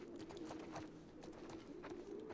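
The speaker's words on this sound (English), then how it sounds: "Also, I hear owls." Owls hoot in The Last of Us Part II, with soft repeated calls far off in a faint outdoor game ambience and no talking.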